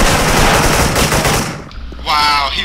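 Rapid machine-gun fire rattles loudly in a shooter video game as a player guns down an enemy, the burst cutting off before a short electronic tone.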